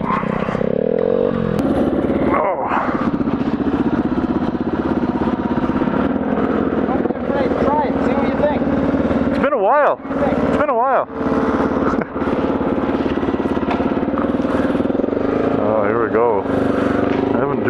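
A Honda Ruckus off-road motorcycle engine runs loud and steady while riding on a trail, with clattering and scraping and a few short dips in the noise as someone talks over it.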